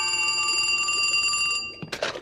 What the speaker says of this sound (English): What are you doing to make your phone ring?